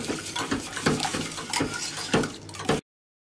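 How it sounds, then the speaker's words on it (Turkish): Flour being whisked quickly into cold water, a rapid run of scraping, clinking strokes against the bowl with light splashing. The strokes come in quick bursts, close and fairly loud, with no voices. "Hızlıca karıştırıyorum."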